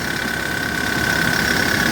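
Close-up steady idle of the diesel engine in a ten-year-old Kia Bongo III King Box manual truck, a continuous, evenly knocking rumble that holds from start to finish.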